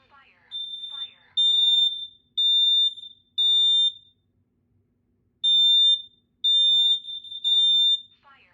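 A Kidde KN-COSM-IBCA smoke and carbon monoxide alarm sounds its test signal: loud, high piercing beeps in groups of three, broken by short pauses, alternating with a spoken voice announcement from the unit.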